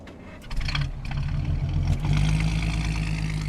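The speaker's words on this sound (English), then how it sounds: "It's like the car was starting without them." Car engine in the video game Fall of Porcupine turns over and settles into a loud, steady mid-pitched idle with a slight rising rev, close and continuous.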